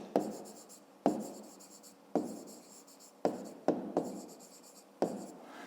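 Handwriting with a pen on paper in a maths exercise book, heard as steady scratchy strokes that break into six separate bursts with short pauses between, close and fairly quiet.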